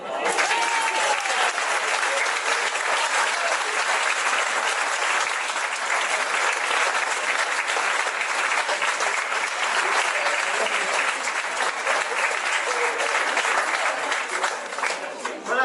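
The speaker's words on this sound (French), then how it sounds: "je voudrais qu'on fasse un tonnerre d'applaudissements pour la petite fille qui se trouve à ma droite" Thunderous applause from the crowd at an outdoor Breton plinn dance contest at a festival in Bourbriac, honouring a little girl; steady, dense clapping sustained throughout, loud and even with no break.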